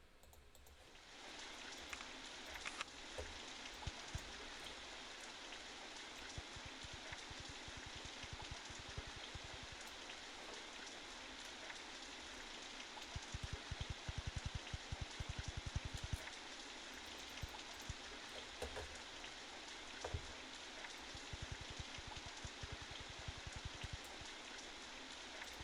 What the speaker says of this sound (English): It's gonna rain pretty soon.